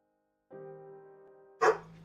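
Luna, a pet dog, lets out a thin sustained whine followed by a single short, sharp bark up close in a quiet indoor space.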